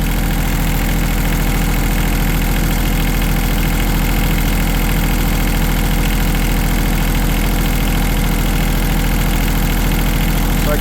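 A Wacker Neuson WN803 CAT 300.9 excavator engine idles with a loud, even, continuous diesel drone and a faint regular knock, close by and with no voices.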